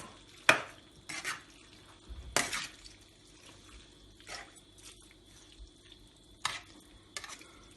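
Quiet scraping and clinking of a utensil stirring sauce in a pot, a few distinct strokes separated by near silence.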